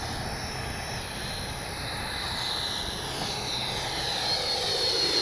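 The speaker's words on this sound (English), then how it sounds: "Get ourselves a low pass down the runway here." A Freewing JAS-39 80mm electric ducted-fan RC jet makes a low pass down a runway, a steady whooshing turbine-like roar that builds slightly in loudness as it goes by, with no voices.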